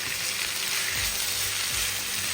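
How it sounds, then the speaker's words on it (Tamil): Steady sizzling of capsicum and vegetables frying in a hot pan, a continuous bright hiss with a few soft low thumps, close and fairly loud, no voices. "அழகாக இதை போட்டு நம்ம வதக்கிக்கலாம்"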